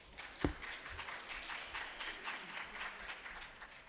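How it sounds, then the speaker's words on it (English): Quiet, distant applause from a hearing audience at a Georgia reapportionment session, soft continuous clapping after one sharper knock near the start. "If we could hold the applause"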